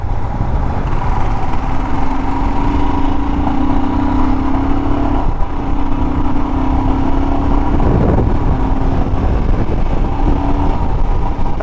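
A Royal Enfield Himalayan 411 motorcycle cruises at steady speed, its engine drone and road and wind rush loud and continuous throughout, with no talk.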